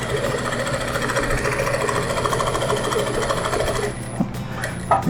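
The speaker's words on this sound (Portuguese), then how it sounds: "levanta o pezinho, baixa aqui e passa uma costura de fora a fora" A sewing machine stitches a seam across a patchwork placemat made from a Hidden Star block, running in a loud, steady rapid chatter before stopping near the end, followed by a few handling clicks.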